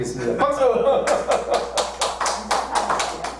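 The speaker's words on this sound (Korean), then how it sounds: "박수!" An audience in a church gathering claps in a quick, steady burst of sharp hand strikes, close and fairly loud, with a voice speaking over the start.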